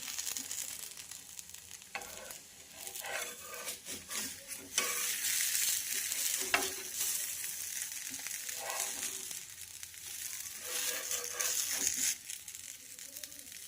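A chickpea (harbhara) dosa sizzles on a hot pan, a steady hiss of frying broken by louder bursts and scraping, stirring-like sounds, close and without speech.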